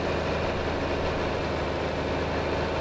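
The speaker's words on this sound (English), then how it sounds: "This tractor will do just fine anyways, though." A Farmall H tractor idles in Farming Simulator 25, giving a steady, low, throbbing engine drone that stays even and close throughout.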